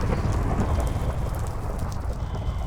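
Thunderstorm in a video game: steady heavy rain hiss with a low, rolling rumble of thunder throughout, dense and continuous with no voices.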